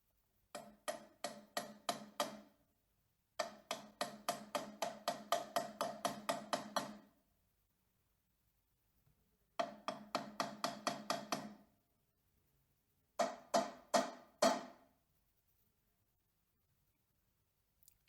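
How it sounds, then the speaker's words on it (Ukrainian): A hammer strikes nails in quick, evenly spaced bursts of taps, four runs separated by pauses, close and crisp in a quiet room. "звук молотка, який забиває цвяхи"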